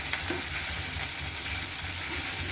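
Onion sizzling steadily in hot oil with ginger garlic paste and curry leaves for a rajma curry, a constant close crackling fry.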